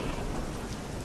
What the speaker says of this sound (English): Outside, the storm continued to rage. The wind screamed and the rain lashed.